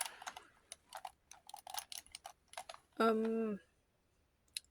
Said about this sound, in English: They have that clicky micro switch or leaf switch.